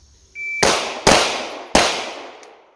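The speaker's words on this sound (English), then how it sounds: "both of you shot pretty slowly" Handgun shots fired at a shooting practice session ring out as three sharp, loud bangs in quick succession, each followed by a short decaying echo, with no talking.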